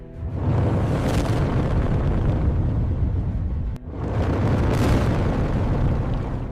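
A giant whale's tail slams the water against attacking orcas: two massive, loud booming crashes, each a broad roaring burst that swells and sustains for a few seconds, with a brief gap between them.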